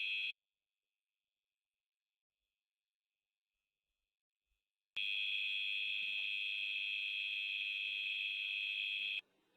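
An Arduino temperature sensor buzzer gives a brief shrill electronic tone, falls silent for several seconds, then sounds again as one steady piercing beep lasting about four seconds before cutting off.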